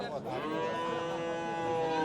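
A cow moos in a long, steady, harmonic call at a busy Fergana livestock bazaar, loud and close with a low crowd murmur beneath.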